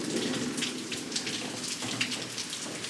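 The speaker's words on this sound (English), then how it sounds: "Well, not today because it's raining" Steady rain falls and patters on surfaces outdoors by a 1956 Ford F100 pickup, a dense even hiss with scattered close drops and no voices.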